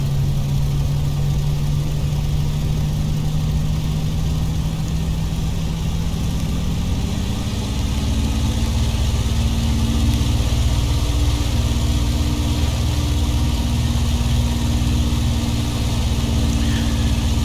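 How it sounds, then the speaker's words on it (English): A light aircraft held on the brakes while its engine is run up to 2000 RPM, a loud, steady droning roar that rises in pitch partway through and then holds, close and continuous with no talking. "hold her on the brakes, open the throttle, run her up to 2000 RPM"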